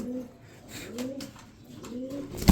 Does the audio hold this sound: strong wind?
no